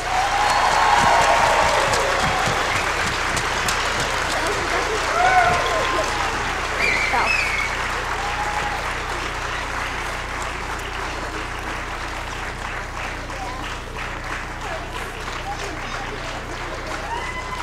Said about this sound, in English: let's give another round of applause for the grade 3s and 4s.